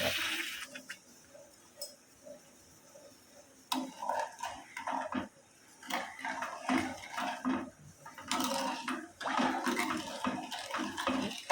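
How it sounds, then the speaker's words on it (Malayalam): Water poured and splashing into a container of sugar, with clinks of utensils and bursts of pouring, fairly close. "അര കപ്പ് വെള്ളം ഇതിലോട്ട് ഒഴിക്കുന്നുണ്ട്"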